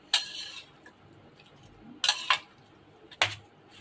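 Beef and potatoes are mixed together by hand for a marinade, heard as three short, quiet clinks and rustles separated by near silence.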